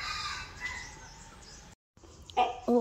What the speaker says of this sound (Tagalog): Oh, ayan, yung maingay na ibon.